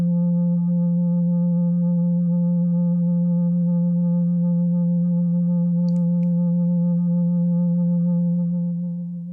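A steady tone from the OktaDie synthesizer plugin hums continuously in feedback self-oscillation, a sustained buzzy pitch with a faint brief blip midway, fading slightly at the end.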